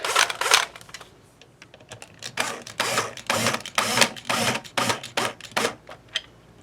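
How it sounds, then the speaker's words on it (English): A screw being driven into the trim of a Stratocaster guitar built from spare parts gives a close series of short, scraping, ratchety bursts in an uneven rhythm, with brief pauses between turns and no talking. "I'm going to put a screw in the trim"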